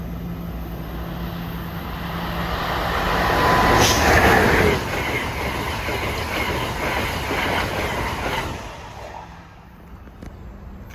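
An Amtrak train roars past at Princeton Junction in a 150 mph zone, a loud steady wash of rail noise swelling near the middle and easing off toward the end.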